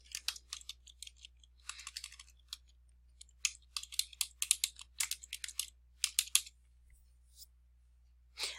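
Typing on a computer keyboard while entering an account name into lease-tracking admin software: close, quiet clusters of key clicks in irregular bursts with short pauses, over a faint low hum.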